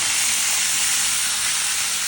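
Fish sizzling in used cooking oil, a loud, dense, continuous frying hiss close by, with no talk.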